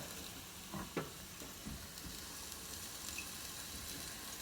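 Food sizzles and fries in oil in a pot on the stove for a Peruvian beef stew, a soft, steady crackle with a few stirring knocks and scrapes near the start, no voices.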